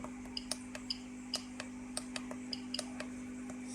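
A Geiger counter dosimeter ticks in sharp, irregular clicks over a quiet, steady background hum. It sounds close but faint, with about a dozen clicks in quick, uneven succession.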